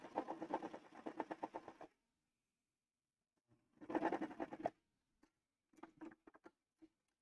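A serger runs in short bursts trimming frayed fabric fibers, a rapid mechanical chatter lasting a couple of seconds, pausing, then returning briefly before a few scattered stitches and clicks; close and fairly quiet.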